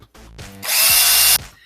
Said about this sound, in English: this power drill is going to allow me to drill a hole in the top